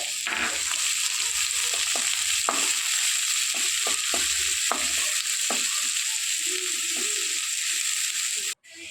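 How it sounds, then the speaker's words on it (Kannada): Chopped onions and garlic frying in oil in a pan, a steady close sizzle with scattered stirring clicks and scrapes, while preparing restaurant-style baby corn Manchurian. "ಈಗ ಒಂದು ಪ್ಯಾನಿಗೆ ಸ್ವಲ್ಪ ಎಣ್ಣೆ ಹಾಕಿ ಅದಕ್ಕೆ ಸ್ವಲ್ಪ ಬೆಳ್ಳುಳ್ಳಿ ಸಣ್ಣಗೆ ಹಚ್ಚಿಕೊಂಡಿರುವ, 2 ದೊಡ್ಡ ಗಾತ್ರದ ಈರುಳ್ಳಿ ಹಾಕಿ ಚೆನ್ನಾಗಿ ಫ್ರೈ ಮಾಡಿಕೊಳ್ಳಿ"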